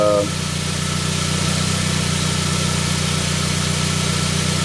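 Saab 9-3 engine catching after a brief crank and settling into a steady, even idle, heard close and alone.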